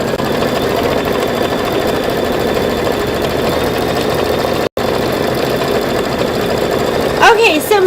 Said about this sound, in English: Go ahead and stitch that little piece of string.